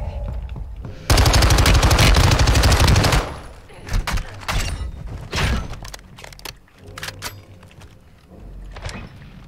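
A decoy grenade imitates gunfire in Call of Duty Warzone: a loud, dense burst of rapid automatic fire for about two seconds, followed by scattered shorter shots and bangs at varying distances.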